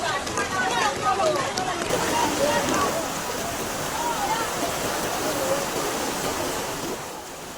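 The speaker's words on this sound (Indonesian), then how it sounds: "Makin sore makin besar airnya guys." Floodwater rushes through a swollen river during flooding in Tapanuli Tengah, a loud, continuous roaring wash that stays steady and close from start to finish.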